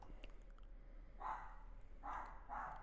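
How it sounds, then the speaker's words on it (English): A dog barks downstairs in a house: three short, muffled bursts sound distant and faint against a quiet room. "if you can hear my dog downstairs"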